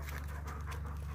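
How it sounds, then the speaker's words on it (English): A dog pants close by beside a 2018 Ford F-550 truck, quick soft rhythmic breaths over a steady low hum, with no talking. "You're such a good dog, ain't you?"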